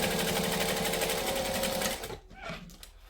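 Sewing machine stitching through thick fabric, a fast steady rhythmic whirring hum for about two seconds, then slowing and stopping with a few faint clicks.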